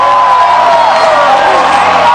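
A large congregation at a Robert Kayanja revival meeting roars, cheers and claps hands to Jesus in one loud, unbroken wash of crowd noise.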